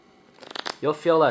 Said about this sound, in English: When you side shuffle like this